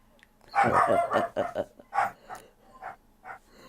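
A pet dog barks in a quick burst of several loud, close barks, then a few spaced, softer yips and barks trailing off.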